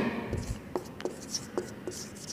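A pen writes on paper in short separate strokes and scratches, close and faint, while someone speaks Urdu-style dictation nearby.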